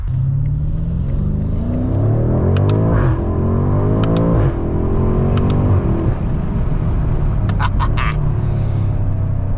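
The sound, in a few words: sports car engine accelerating during drive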